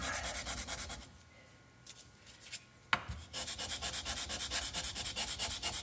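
Hand sanding on a painted wooden book box, a close, steady rasping scrub in rapid strokes that pauses for about two seconds and then resumes at full pace.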